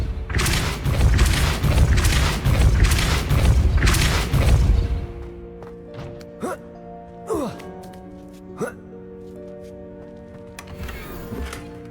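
Loud, dense magical blast of the Depulso spell in the Hogwarts Legacy video game, a roaring rush for about five seconds that gives way to a quieter game backdrop with whooshing swishes and a tonal hum.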